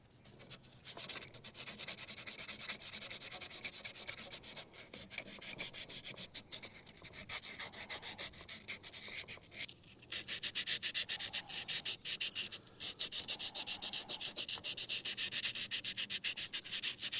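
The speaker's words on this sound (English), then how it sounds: "Now I'll take a file or sandpaper and sand this rough edge down." Sandpaper or a file smoothing the rough cut edge of a trolling motor shaft, a steady close rasping scrape in long continuous strokes with a few brief pauses, no talking.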